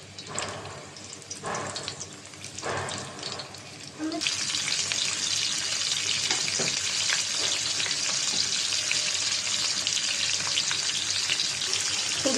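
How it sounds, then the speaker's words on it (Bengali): Turmeric- and chilli-coated fish dropped into hot oil on a flat griddle pan, with a few splashes and handling clatter first, then a loud, steady, close-up sizzle of frying that continues unbroken. "তাওয়ায় এখন তেল দিয়ে দিলাম মাছটা মেখে নিয়েছি হলুদ মরিচ দিয়ে এটা দিয়ে দিলাম তেলটা গরম হয়ে গেছে"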